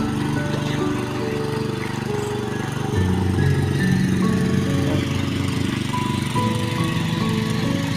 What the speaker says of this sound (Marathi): आता कोंडीमध्ये मोटर लावून पाणी घेतात आहे पाईपानी.